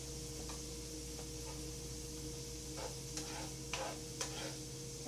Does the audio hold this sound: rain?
no